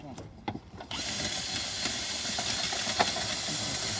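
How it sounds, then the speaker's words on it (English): A grain auger pulls grain out of a bin during a grain bin rescue, a continuous hissing, rushing mechanical churn that starts abruptly about a second in and runs steadily with faint knocks, under brief voices at the start. "then we start taking the grain out with the auger"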